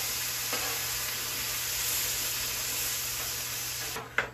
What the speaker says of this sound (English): while we're cooking the bacon, we're going to make it then a little extra crispy today